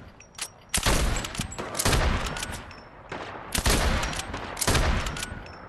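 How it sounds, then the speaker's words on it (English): A lever-action rifle in a video game fires four loud, sharp shots spaced about a second apart. Each crack is followed by a short ringing tail, with quieter gameplay sounds filling the gaps between them. "So, the lever action rifle. It shoots just like a hunting rifle, see?"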